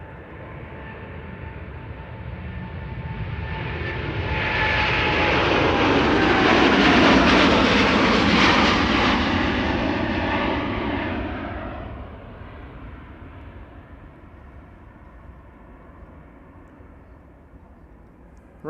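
A jet airliner departs from Amsterdam Schiphol Airport on a sunny morning, its engine roar swelling from a distance to a loud peak as it passes, then fading away into a low rumble.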